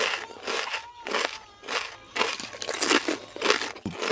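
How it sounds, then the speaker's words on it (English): Loud, close crunching and crinkling come in irregular bursts, like someone chewing crunchy snack food with the mouth near the listener. "Would you stop chewing so loud?"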